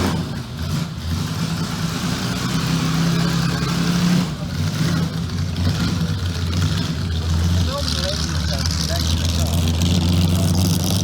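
A Ferrari 212 Vignale at a concours d'elegance runs with a steady, rumbling engine note that rises slightly in places, while people talk nearby over it.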